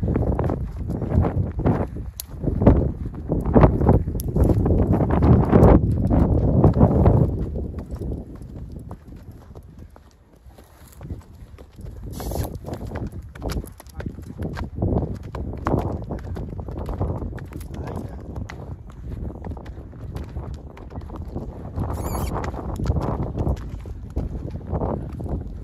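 A mare walks on a hard surface, her hooves clip-clopping in a steady, uneven rhythm at moderate distance, with wind buffeting the microphone throughout and a brief lull midway.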